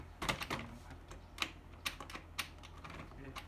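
A Bonbebe Mini Booster child seat folding up as its lower latch pin is pressed, giving a few sharp plastic clicks and knocks at close range, with faint rustling between them.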